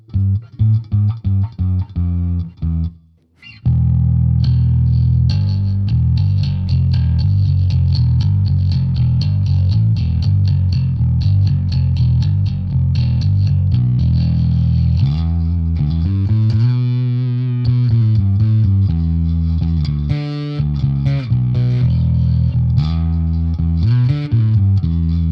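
Bass guitar played through a Laney bass amp with distortion, loud and continuous, with a brief gap early on then sustained gritty notes and sliding pitches throughout.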